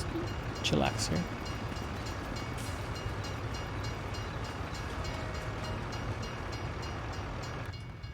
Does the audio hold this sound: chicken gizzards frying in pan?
no